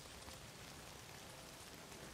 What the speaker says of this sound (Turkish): bir de yağmur yağıyor şimdi